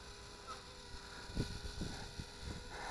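A Cheerson CX 41 toy selfie drone with position hold flies as throttle is added, giving a faint, steady whirring buzz of small motors mixed with outdoor wind noise.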